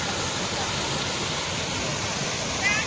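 Doodh Dhara waterfall on the Narmada river sends up a constant rushing wash of falling water, close and even, with a faint brief chirp near the end.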